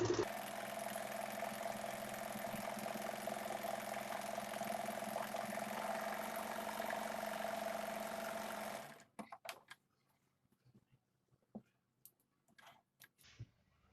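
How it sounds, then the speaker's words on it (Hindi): An electric sewing machine runs a steady, fast double row of stitching along the seat seam of ladies' straight pants, humming loudly and continuously for about nine seconds before stopping, followed by a few faint handling clicks. "आसन में हम डबल सिलाई लगा के इसको पक्का कर लेंगे।"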